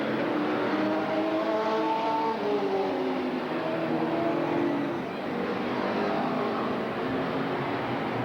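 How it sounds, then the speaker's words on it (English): Several race cars roar around the track on the white-flag final lap of the 1987 Roseburg Outlaw 100, a loud, continuous wall of engine noise with rising and falling revs as cars pass, with no talking. "But it is Mike Batman, the leader, as they come around the white flag lap"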